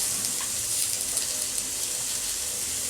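Onions with salt and a pinch of turmeric frying in a pan for parwal curry, a steady, even hiss of sizzling oil with faint crackles, heard alone.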